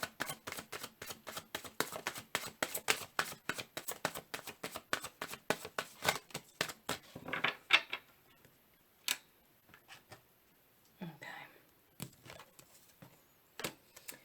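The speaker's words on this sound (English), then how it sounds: "Okay, last shuffle." Tarot cards being shuffled in quick, steady ticking bursts, dense at first and then thinning to sparse single snaps with brief pauses, close and quiet with no voices.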